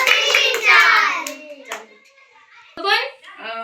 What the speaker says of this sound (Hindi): सब जने स्वागत ताली बोलेंगे